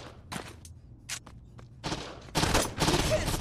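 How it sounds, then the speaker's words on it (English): Gunfire in the Saints Row 2 video game: bursts of shots build from a few scattered cracks into dense, loud volleys toward the end, with no voices over them. "Shot the shit out of Shandy."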